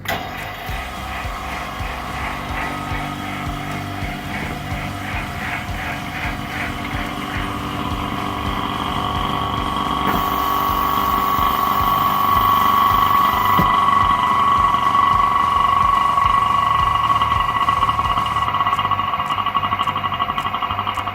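An OCA vacuum laminator machine runs with a steady motorized hum and whine, growing slightly louder midway as a pump-like drone settles into a constant tone.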